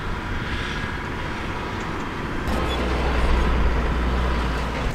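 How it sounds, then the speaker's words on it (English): A water truck arrives at a ranch, its heavy engine rumble growing louder and deeper midway as it pulls closer, a steady roaring drone with no talk over it. "Here comes the water truck."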